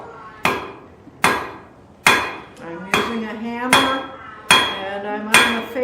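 Blacksmith's hammer striking hot steel on an anvil while drawing a point, seven sharp ringing blows at a steady, unhurried rhythm, each metallic clang decaying before the next.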